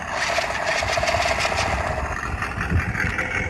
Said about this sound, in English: you can hear the engines rev up.